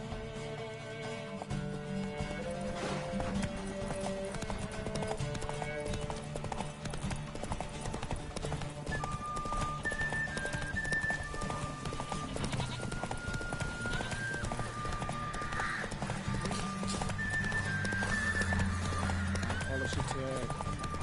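Roach the horse galloping in The Witcher: rapid, continuous clip-clop hoofbeats run throughout, close and steady, layered with music and a voice speaking over the ride.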